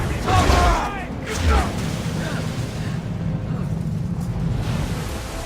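Cannon fire in Assassin's Creed 3, heard as two deep booming blasts early on that give way to a sustained rumbling roar, with shouted voices mixed in.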